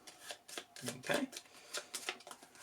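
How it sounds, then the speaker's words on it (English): A deck of AI cards for the Terraforming Mars: Ares Expedition board game gets shuffled, producing a quick series of soft papery riffling bursts close by, with a brief spoken word in the middle. "you take the AI deck, you give that a shuffle"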